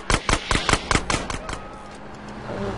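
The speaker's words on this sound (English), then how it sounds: "Why are you shooting people now?" Rapid bursts of gunfire in the video game GTA San Andreas, about eight loud sharp shots in quick rhythm over the first half, then fading into a low ambient rumble.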